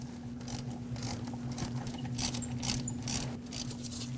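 A ratchet clicks in a quick, steady run of pawl ticks while it backs out an AC compressor bracket bolt on a 2006-2015 Lexus IS250 2.5L V6, heard up close over a low background hum.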